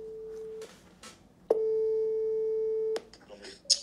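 A telephone rings out while calling: a steady electronic tone sounds in two long beeps with a short gap between them, and light background noise around them.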